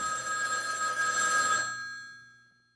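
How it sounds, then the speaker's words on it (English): A telephone bell rings steadily with bright metallic tones for about one and a half seconds, then fades out and leaves a lingering decay. "But right as they were talking, the phone rang."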